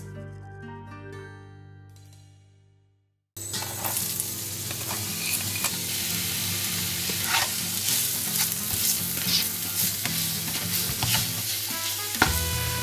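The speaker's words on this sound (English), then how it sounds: "fry our onions until they're nice and brown" Onions fry in oil in a pan for a prawn and chorizo jambalaya, a steady close sizzle that starts abruptly after a quiet musical lead-in and continues with occasional stirring scrapes.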